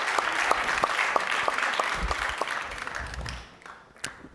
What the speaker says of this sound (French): on les applaudit toutes les 2. Très très fort